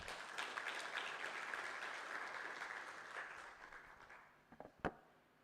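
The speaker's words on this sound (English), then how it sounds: "give him a round of applause" Audience applause at a manufacturing and SME convention in Kenya, steady dense clapping from a large crowd in a hall that gradually thins and fades, ending in a few scattered claps and a sharp knock.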